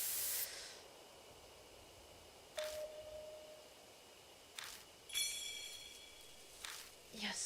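A spray hisses onto a jug in Death Mark: a brief burst of hissing at the start, then quiet with a few faint clicks and tones from the game.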